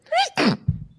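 A single sharp sneeze in a committee meeting room, a rising intake followed by the explosive burst, close and loud with a faint murmur after.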